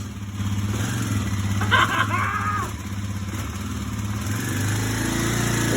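A repaired 2009 Kawasaki KLX250S runs close by with a steady mid-pitched engine chug that rises and falls slightly. A brief voice cuts in partway through.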